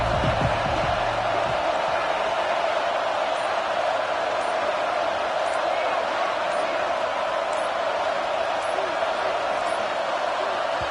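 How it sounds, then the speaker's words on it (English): Home crowd roaring in a football stadium in a BYU college football video game, a constant loud, dense wash of crowd noise with a brief low thud near the start. "This crowd ready to make its presence known."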